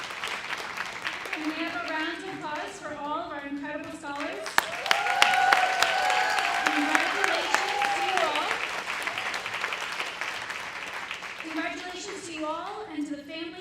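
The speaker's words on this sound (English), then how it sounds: "Can we have a round of applause for all of our incredible scholars?" Audience clapping for scholars at a Rutgers awards banquet, a sustained round of applause in a large room, with a voice speaking over the start and again as it fades.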